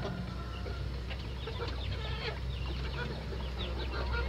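Native Indonesian free-range village chickens on a small-scale farm cluck softly and continuously over a low, steady background hum.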